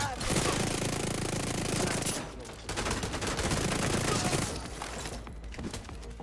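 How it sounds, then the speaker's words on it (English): SMG fire in The Division 2 pours out as a dense, continuous roar of automatic shooting at close range, with a brief dip midway before the loud rattling resumes. "SMG works good, close and personal."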